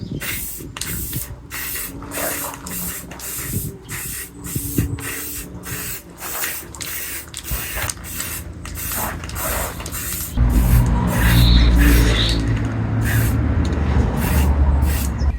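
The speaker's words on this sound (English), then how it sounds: "then you will spray around the edge" Repeated short hissing bursts of spray paint on a guitar body in a quick rhythm, then a louder continuous spray with a low rumble for the last few seconds.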